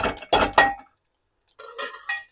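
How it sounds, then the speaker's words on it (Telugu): Raw mango pieces for mamidikaya pappu drop into a pot in two short bursts of hard clinking and clattering, separated by a brief silence, close and without speech. "ఇగో మామిడికాయ వేస్తున్నాను"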